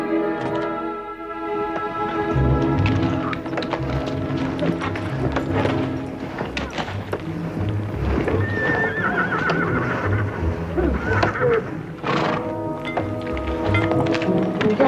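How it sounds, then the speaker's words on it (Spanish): Three horses escaped from a corral run loose, neighing and whinnying repeatedly over a steady clatter of hooves; the sound is loud and busy throughout, with no talking. "Se han escapado tres caballos del corral. Estarán corriendo sueltos por ahí."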